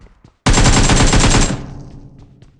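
A rapid burst of automatic gunfire in PUBG, loud and close, firing for about a second before tailing off into a fading echo and soft ambient noise.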